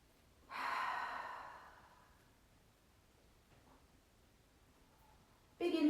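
A deep breath during a home yoga session, one long close exhale that fades slowly into quiet, followed by the start of another breath at the end.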